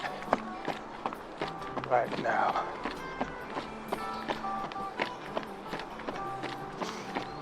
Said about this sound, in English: You'll hear my footsteps change in sound when I hit the wood